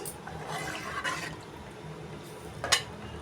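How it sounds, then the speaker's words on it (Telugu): Water poured into a pot while cooking ragi malt, a continuous soft splashing and gurgling stream with a brief louder splash near the end, close by and without talk. "వాటర్ వేసి ఇదిగోండి 2 గ్లాసులు వాటర్ వేసుకున్నాను"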